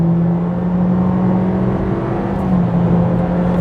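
2023 Honda ZR-V turbo SUV accelerating hard in S mode, with a steady rising engine drone and road roar heard from inside the cabin, with no talk over it.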